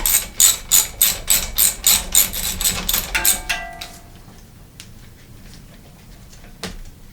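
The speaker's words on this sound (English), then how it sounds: "Again, I'm using my hex head socket on my socket wrench." Socket wrench fitted with a hex head socket loosening a brake bolt on a mountain bike, giving a quick run of about a dozen close, loud ratchet clicks for three seconds, then fading to a quieter room with a faint tap.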